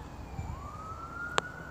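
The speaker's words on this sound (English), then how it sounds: "I think that's actually an ambulance" Distant ambulance siren near a railway station, one faint rising wail sweeping upward and holding, with a sharp click partway through and no talk.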